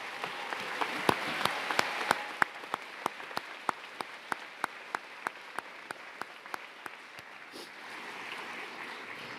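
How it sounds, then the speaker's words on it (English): A commencement audience applauds, broad steady clapping from a crowd with a few sharper, closer claps standing out through it. It goes on for about nine seconds and thins toward the end. "please just give them a round of applause"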